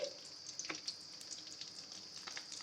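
Stuffed capsicum pieces go one by one into hot mustard oil, giving a steady close sizzling hiss with small splashy crackles as each piece lands.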